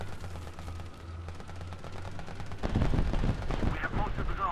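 Gunfire from special guns in the tank combat video game War Thunder, a dense burst of loud shots and impacts growing heavier partway through, heard over steady engine rumble.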